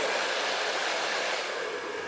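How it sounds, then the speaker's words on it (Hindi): A hair dryer blow-drying curly hair gives off a steady, even whoosh of blowing air, close and unbroken throughout. "तो यहाँ पे हमने फ्रंट पे अच्छे से कर दिया है ड्रायर।"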